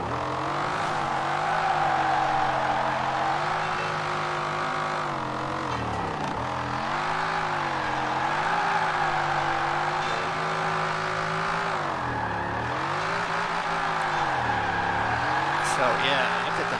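Eleanor 1968 Mustang GT engine drifting in Forza Horizon 4, a loud steady engine drone with pitch rising and falling as revs swing through slides, continuous for the whole stretch with no talk.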